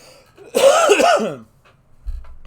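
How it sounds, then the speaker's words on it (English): A single harsh cough or throat clear, close and fairly loud, followed by quiet and a soft low thump. "let me cough."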